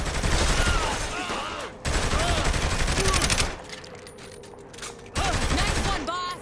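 Sustained bursts of rapid gunfire from a gunfight in the video game Saints Row The Third, loud and dense, easing briefly before the volleys start again, with voices talking over parts of it.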